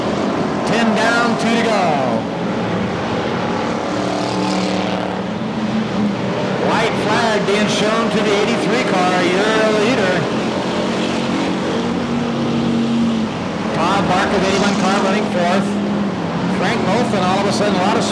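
Cars of a Budweiser Racing Series race lapping the Bakersfield oval, loud engine roars rising and falling as the pack passes, heard under continuous commentary.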